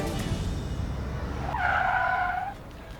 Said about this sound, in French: Pourquoi t'arrêtes la voiture?